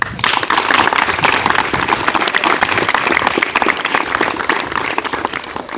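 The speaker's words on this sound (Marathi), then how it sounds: "या तिन्ही गुरूंसाठी एकदा जोरदार टाळ्या होत्या" An audience breaks into loud, sustained applause, dense clapping from a large crowd that continues without a break.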